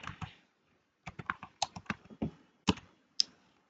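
Quick, light tapping on a computer keyboard, a short burst of keystrokes, a pause, then a steady run of close clicks in an otherwise quiet room.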